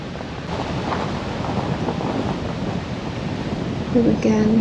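A river flows through an autumn valley in Tremont in November, a loud, continuous wash of rushing water heard nearby with wind buffeting the microphone, and a brief tonal sound near the end.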